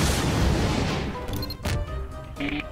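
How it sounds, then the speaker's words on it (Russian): A powerful bomb blast in Garry's Mod fills the opening second with a loud, broad roar that slowly decays, followed by scattered game sound effects and crackling debris. "Ждите взрыв с крыши."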